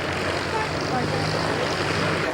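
Propeller aircraft at the Biggin Hill air show: a loud, continuous droning engine roar with broad noise, steady throughout.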